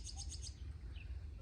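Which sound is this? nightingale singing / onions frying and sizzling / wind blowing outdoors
nightingale singing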